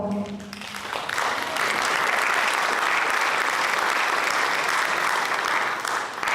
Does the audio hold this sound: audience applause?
yes